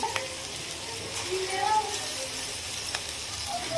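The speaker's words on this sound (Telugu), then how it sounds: "ఈ అల్లం ఎల్లిగడ్డ పేస్ట్ అనేది పచ్చివాసన పోయేంత వరకు కూడా మంచిగా వేయించుకోవాలి" Ginger garlic paste fries in hot oil for a mutton curry, a soft, steady sizzle with a few brief stirring clicks, fairly quiet and close.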